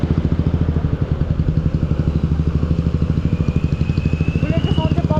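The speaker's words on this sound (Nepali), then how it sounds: "बुलेट चाहिँ साउन्ड चाहिँ बब्बाल हुन्छ" A Royal Enfield Bullet motorcycle idles close by with a steady, rapid thump of single-cylinder beats, loud and even throughout, while a faint high whine briefly rises near the end.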